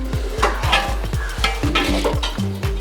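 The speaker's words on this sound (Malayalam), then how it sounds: "ചിക്കൻ ഒടിഞ്ഞു പോവാതെ മെല്ലെ അടിയിൽ നിന്ന് ഇങ്ങനെ എടുത്തിട്ട് മെല്ലെ ഒന്ന് മിക്സ് ചെയ്ത് കൊടുക്കുകയാണ്" A spoon slowly lifts and folds Kozhikode-style chicken biryani rice up from the bottom of a pot, making close, soft scraping and light metal clinks in an uneven rhythm, with no voices.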